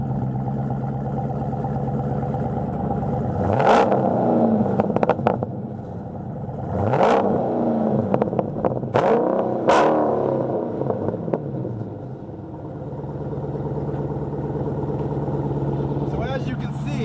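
A Dodge Challenger Scat Pack V8 engine starts up and idles with a deep, lumpy burble, revved loudly several times close by, with crackling pops between revs.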